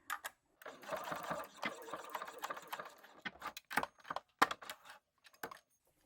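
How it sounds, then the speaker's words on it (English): A sewing machine stitches across a folded D-ring tab on a crossbody bag, basting about 3/8 inch from the edge, in several quick close bursts with short pauses and a few sharp clicks near the end. "I'm going to sew at about 3/8 of an inch"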